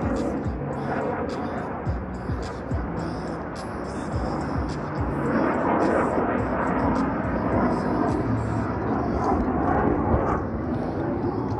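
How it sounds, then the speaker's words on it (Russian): Military combat aircraft passing overhead, a loud broad roar that swells and lingers over street noise, with faint voices underneath. "О, боевые самолеты. Наверное, патрулируют небо в связи с выборами."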